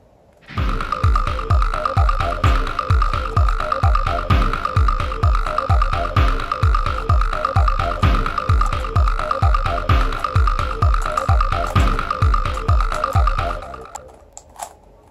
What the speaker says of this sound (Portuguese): Tá aí, pessoal, o cubo todo embaralhado e agora nós vamos resolver